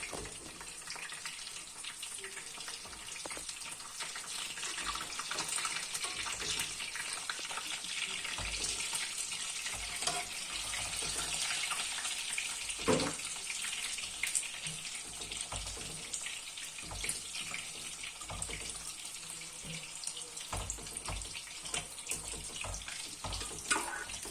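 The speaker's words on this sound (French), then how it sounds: "il faut faire attention aux éclaboussures d'huile, hein, parce que c'est de l'huile bouillante" Homemade chicken nuggets deep-frying in boiling oil, a steady dense sizzling hiss with scattered pops and crackles running throughout, close and even in loudness.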